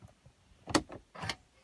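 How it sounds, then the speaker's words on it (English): A key slides into the ignition of a BMW E90, giving two brief clicking, scraping bursts close by in an otherwise quiet car interior. "the key in the ignition"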